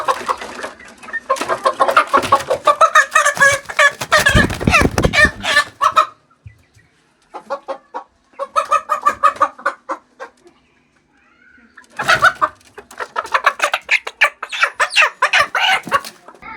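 Home-raised chickens cluck and squawk in loud, busy bursts close by, with short pauses between the runs of calls.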